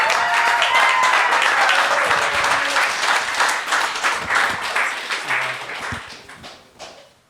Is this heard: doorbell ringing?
no